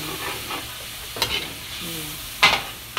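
Tomato sauce poured into a sizzling pan while cooking callos a la madrileña, a steady crackling fry with stirring scrapes and a couple of sharp utensil knocks, close by, without talk.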